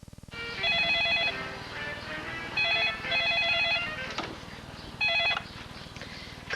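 Office telephone ringing in repeated electronic trills, loud and close, with brief gaps between rings.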